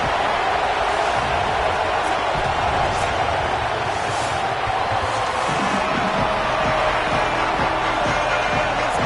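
A large, packed stadium crowd at a women's American football game between Spain and Great Britain, a dense and steady roar with faint cheering and no clear peaks.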